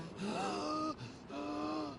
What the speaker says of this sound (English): He seems to have trouble breathing.